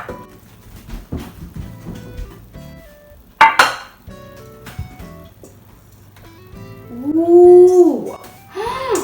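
A metal baking pan is picked up in a home kitchen while lemon squares are being made, giving several brief clinks against dishes, with a sharp clatter near the middle and a louder scraping ring toward the end.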